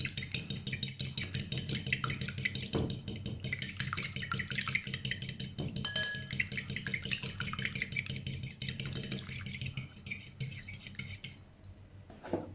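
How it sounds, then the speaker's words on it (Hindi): A whisk or spoon clinks rapidly against a bowl as egg is beaten into a rasmalai batter, a steady close metallic scraping and tapping that runs nearly the whole time and then stops, with no talking. "अब इसमें अंडा डालेंगे। इसे अच्छे तरीके से फेंट लेंगे।"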